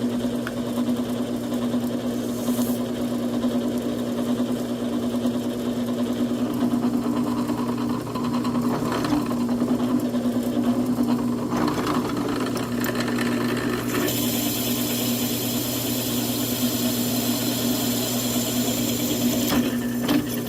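Drill running a budget hole saw through material, a steady loud motor drone with a constant low hum and a brighter grinding edge coming in toward the end, no talk.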